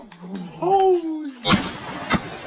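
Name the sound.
shotgun shots during duck hunt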